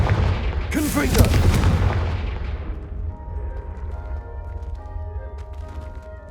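A Confringo blasting spell in Hogwarts Legacy, a loud booming explosion with a crackling burst that rolls off into a fading rumble, under background game music and a spoken voice.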